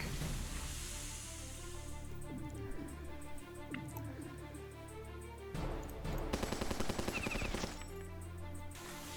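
A tank fires on an enemy in the Battle Nations strategy game, with clattering bursts of rapid gunfire that swell louder in the second half over a dense game soundtrack.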